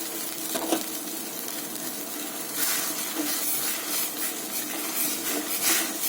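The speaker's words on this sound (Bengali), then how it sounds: "এখানে আমি ভেজে নিচ্ছি আমগুলো" Mango pieces frying in a pan for homemade pickle, a soft continuous sizzle and hiss with occasional stirring scrapes, fairly quiet and steady with no talking.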